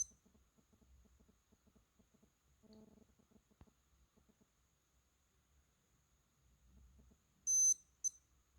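Rotary Chronograph G3031 wristwatch timer alarm giving a short burst of high, bright beeps near the end, then one brief repeat, following quieter mechanical clicks and handling.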